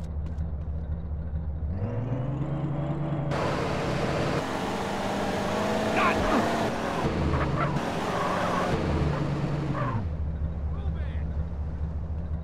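A car engine idles and revs in GTA San Andreas, a steady mechanical hum that swells louder in the middle and then settles back, with a voice over it at times.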